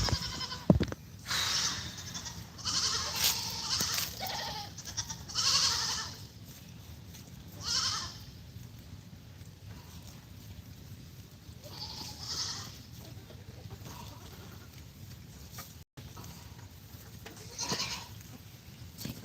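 A goat bleats in a farm setting, with several faint, scattered cries spread over a quiet stretch. The calls are mixed with low handling noise and an occasional soft voice.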